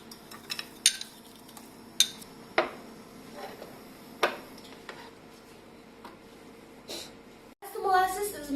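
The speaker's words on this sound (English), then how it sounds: "we have to make sure that we keep on stirring it so that it doesn't burn" A spoon scrapes and taps against a pan while molasses melts into heated milk, producing sparse clinks and light metallic knocks over a quiet background, followed by a voice speaking at the end.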